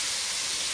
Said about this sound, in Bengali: পটল ভাজা হচ্ছে